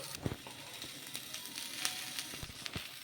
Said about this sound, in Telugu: ఈ ఆనియన్ ముక్కల్ని మగ్గించుకోవాలి